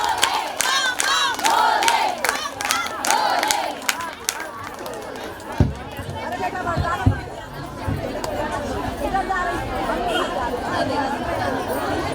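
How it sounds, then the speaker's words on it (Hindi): A crowd at a bhajan singing competition prize announcement cheers, shouts and claps in loud rhythmic bursts at first, then settles into a busy, noisy hubbub of voices and scattered claps. "खूब जोरदार तालियां बजाइए, दम लगा के"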